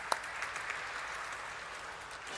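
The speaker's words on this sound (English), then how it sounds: "Let's have a huge round of applause for him," Audience applause at a corporate event hosted for Nykaa, a steady broadband wash of clapping that holds at an even, moderate level for its whole length with no talk over it.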